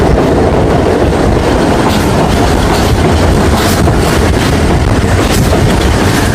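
A Pakistan Railways passenger train from Lahore to Peshawar running on rails in the rain, with a loud continuous rumble and rhythmic wheel clatter heard from close by, with no one speaking.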